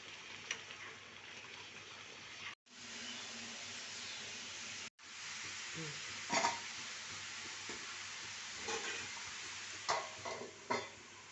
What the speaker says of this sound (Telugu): నూనె వేడెక్కిన తర్వాత మనం ముందుగా తరిగి పెట్టుకున్న క్యాబేజీ ముక్కలు, పచ్చిమిర్చి మరియు టొమాటో ముక్కలను ఒకదాని తర్వాత ఒకటి బాండీలో వేసుకోవాలి